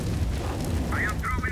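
A fire grenade in Counter-Strike: Global Offensive goes off as a low, rolling rumble that stays steady throughout, with a voice speaking over it near the end.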